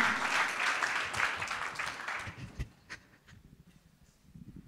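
Audience applause at a talk event in a lecture hall, a dense round of clapping that fades out after about two and a half seconds, leaving scattered faint claps and room noise.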